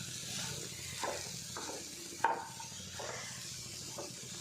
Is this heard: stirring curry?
yes